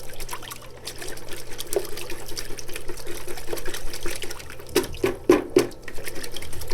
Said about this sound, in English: what I'm going to do is rinse the tree off in water